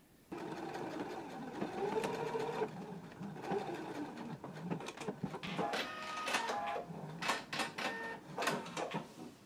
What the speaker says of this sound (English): Now we can take it to the sewing machine and we can stitch the ends together